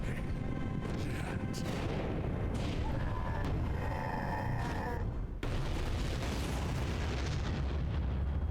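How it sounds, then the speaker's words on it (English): Continuous rumbling blasts and crackling pops from small explosions in the video game The House of the Dead Remake, loud and dense throughout, with a sharp burst partway through. "The little explosions all around."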